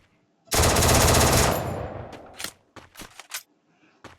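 MP40 submachine gun firing in the Free Fire video game: a loud, rapid one-second automatic burst that decays, followed by several short, sharp single clicks and clacks spaced apart, with no talk.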